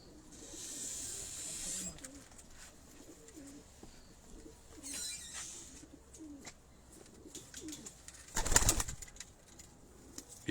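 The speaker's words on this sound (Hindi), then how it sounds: "अब देखें इन कबूतरों को" Golden pigeons on an Abbottabad rooftop coo softly in repeated low, throaty phrases, faint and close, broken by wing flutters, a loud burst of flapping or rustling near the end, and some distant background murmur.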